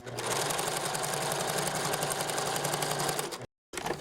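Sewing machine runs fast and steady, stitching a 1 cm seam on a bolero garment, a close rhythmic whir that stops abruptly, then starts again briefly.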